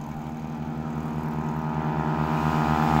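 Motorcycles gathered for a race run with a steady, throbbing engine drone and pulsing low rumble that builds gradually in loudness, with no speech over it.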